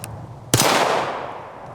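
A single sharp FN Five-seven pistol shot cracks out close by, followed by a long fading echo rolling off the surroundings.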